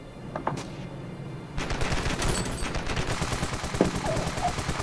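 Loud automatic gunfire in the shooter game Ravefield, a snow fortress battle: sustained rapid bursts of shots with a few louder cracks, close and continuous, preceded by a couple of isolated shots.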